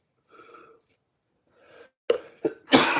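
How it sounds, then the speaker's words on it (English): A few dry, hacking coughs from a persistent dry cough, close to the mic, preceded by soft breathy sounds, with the final coughs loudest and harshest. "I got this cough, and it's just a dry cough"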